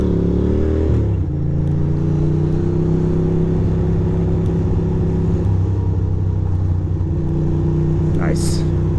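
A Ducati motorcycle rides through the streets of Queens, its engine a steady, close mid-pitched drone with a downshift near the start and a brief high whine near the end.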